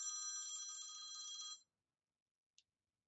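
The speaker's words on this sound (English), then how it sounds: "Sorry, I got a phone call." A telephone rings with an incoming call, a steady electronic trill lasting about a second and a half that cuts off abruptly, followed by a single faint chirp.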